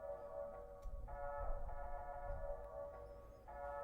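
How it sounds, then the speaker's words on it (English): A sustained synth pad sampled from a track carries an iZotope Vinyl effect, giving a steady, warm chordal tone under faint crackle and low rumble, with no voices. "just used the same pad sample that was used throughout the track and just put isotope vinyl on it"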